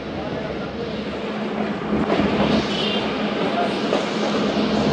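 A train pulls into Kot Addu Junction railway station at night with a steady, close rumble of wheels and carriages that grows slightly louder partway through.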